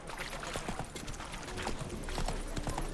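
Horse hooves clatter in a quick, rhythmic galloping clip-clop in The Witcher 3 game, fairly quiet and steady, growing slightly louder toward the end, with no voices.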